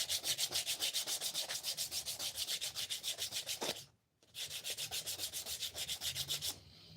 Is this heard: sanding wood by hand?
yes